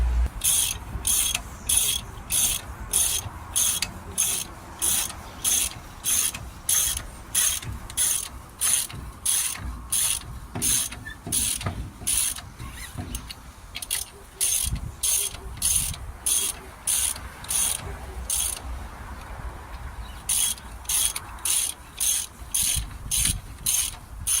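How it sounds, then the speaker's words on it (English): A hand ratchet clicks in fast, steady bursts of repeated strokes while working on the suspension of a 1948 Chevy being fitted with Jaguar suspension, close and clear over a low background hum. "Let me just get my ratchet."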